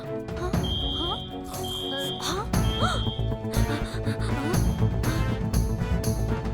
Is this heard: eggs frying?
no